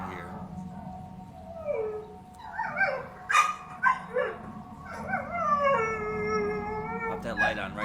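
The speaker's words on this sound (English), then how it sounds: "My dog wouldn't stop barking when I came out." A dog outside at night howls and yips in rising, wavering calls mixed with barks and whimpers, fairly close and loud, with a low background hum.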